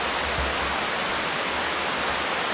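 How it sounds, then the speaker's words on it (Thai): A waterfall in a forest stream roars as a constant, dense rush of falling water, loud and close, steady throughout with no voices. "มันเป็นน้ำตกน้ำตกนะทุกคน"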